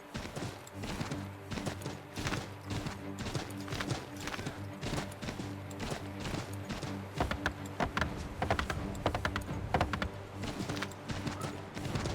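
Rhythmic hoof clip-clops of a horse in Assassin's Creed III Remastered over a dense, busy background of rumbling music and effects, steady throughout with no voices.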